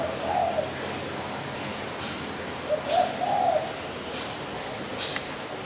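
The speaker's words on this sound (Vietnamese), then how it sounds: "chủ yếu là gu là chính" Soft, low spotted dove cooing in short phrases over a steady hiss of background noise, faint and somewhat distant, with no voices.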